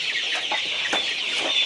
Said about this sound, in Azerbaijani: inkubatorlara qoyulan təbii yumurtalardan cücələr çıxıb